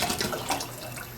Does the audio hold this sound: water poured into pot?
yes